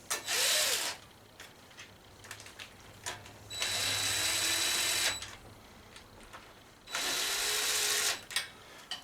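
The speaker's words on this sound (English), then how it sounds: "Just going to run them down until they touch with the driver." Power driver running bolts down on a gasket-sealed cover of a Murray lawn tractor, heard as three separate whirring bursts of about a second each, with quiet shop clicks and handling noise between them.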